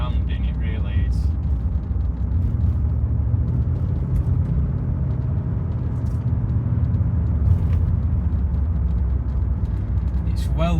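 Low engine burble from a 1980s Bentley Eight while driving, a steady muffled rumble heard from inside the well-insulated cabin, continuous beneath someone speaking throughout.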